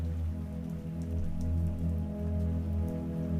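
Rain falls on a road at night, a steady patter of drops over a loud, continuous low rumble like a truck engine, with no voices.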